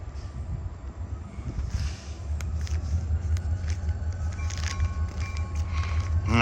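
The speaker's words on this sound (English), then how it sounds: "you have just seen, I believe, an EMD SD40 switching the Brewster freight yard of the Wheeling and Lake Erie" A remote-controlled EMD SD40 diesel locomotive switches cars in the Wheeling & Lake Erie freight yard at Brewster, Ohio, its low engine rumble steady and building louder, with faint metallic squeals and clanks from the rolling stock.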